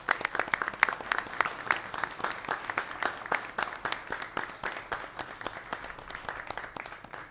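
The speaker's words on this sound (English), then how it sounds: "Let's give a round of applause to these leaders." A small group applauds at a county commission meeting, with a modest round of individual claps heard fairly close and distinct, fading slightly toward the end.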